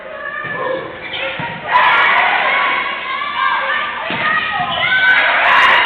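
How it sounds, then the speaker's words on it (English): Student crowd cheering at a college volleyball match between GRCC and Muskegon CC, a steady roar of voices in a gym that swells louder partway through, with a commentator talking over it. "Good amount of students here cheering on the Raiders."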